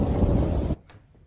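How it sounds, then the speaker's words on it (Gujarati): Heavy rain with rumbling thunder pours down at the onset of the monsoon in Junagadh, Gujarat, loud and dense for most of the moment before cutting off abruptly into near silence. "પંથકમાં વરસાદ વરસ્યો। લાંબા સમય બાદ વરસાદની શરૂઆત થઈ।"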